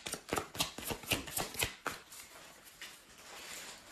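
Repeated crinkly rustling of a plastic shopping bag as a cat gets into it, in quick bursts, close up, trailing off into a quieter rustle with no talking.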